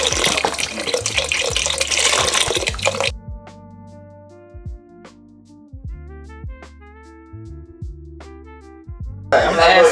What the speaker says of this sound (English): We're gonna add some broth,